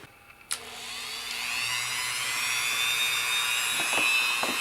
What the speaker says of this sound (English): I'm just going to break out the Dremel